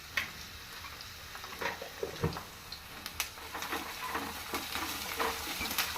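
Onions and ginger paste fry in a pan for a ridge gourd gravy curry, a steady soft sizzle under scattered scraping and clinking stirs, close and moderate in level, with no voices.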